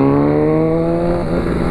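A Honda CB1000R motorcycle engine revs in a street setting, a steady loud harmonic drone that holds throughout without any break.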